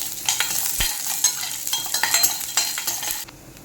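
Peanuts tossed into a little hot oil crackle and sizzle briskly while a spoon or ladle scrapes and stirs them around the pan, with sharp clicks and rustles throughout, close and fairly loud, no talk.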